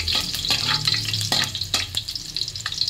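Garlic frying in a pan until browned, a close, crackling sizzle with a few sharp stir clicks and spatula taps across a few seconds.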